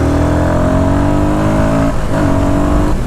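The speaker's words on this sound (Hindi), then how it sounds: "थ्रॉटल तो ओपन कर लो आप, उसके बाद आप देखो।" A Royal Enfield Guerrilla 450 motorcycle engine revs loudly and close with the throttle opened, its pitch climbing steadily before a brief dip and a second rising rev.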